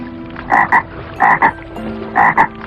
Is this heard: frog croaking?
yes